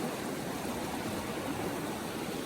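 Colorado River water rushing steadily near Phantom Ranch in the Grand Canyon, a constant broadband roar that stays even and close throughout with no gaps.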